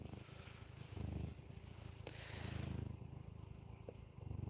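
Soft, close purring from a house cat, with a steady rhythmic rumble that swells and fades over several breaths, quiet and alone.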